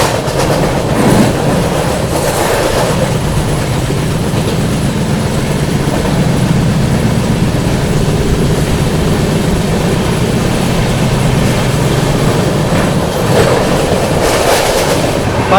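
The 12141 Patliputra SF Express rolls along at speed, a loud, close, continuous roar with rhythmic clickety-clack from the wheels over the rails throughout.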